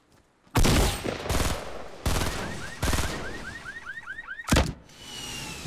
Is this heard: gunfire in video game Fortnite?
yes